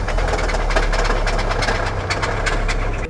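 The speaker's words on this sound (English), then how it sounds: "This engine, if you didn't know, it sounded like this." An old VW Golf R engine with a big turbo build runs steadily, with a low throbbing idle and rapid rhythmic ticking clatter, close up and continuous with no talking.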